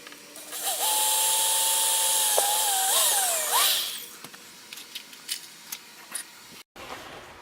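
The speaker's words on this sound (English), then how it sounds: "I am using a 7/64 drill bit." A power drill with a 7/64 drill bit bores a pilot hole during RV bunk modifications, a steady whining tone of about three seconds that pitches down and wavers as the bit bites, then several faint clicks and knocks.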